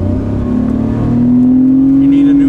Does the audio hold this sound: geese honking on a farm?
no